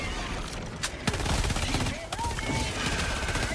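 Dense rapid fire from a heavy-recoil weapon in Helldivers 2, a continuous close burst of shots layered with battle noise and occasional voices.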